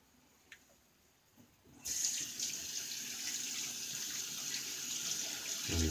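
Tap water runs steadily into a sink as a badger shaving brush is rinsed, the flow starting abruptly and continuing as a bright, even splashing hiss close by.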